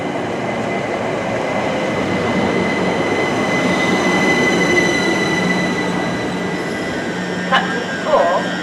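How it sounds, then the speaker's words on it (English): A District Line train of 8 coaches rumbles along steadily with a broad, constant roar, a faint squeal rising briefly near the end. "The train is formed of 8 coaches"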